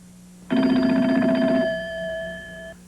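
A telephone rings for a Sunday morning wake-up call, one long loud electronic trill that starts abruptly and fades out after about two seconds, with no voices.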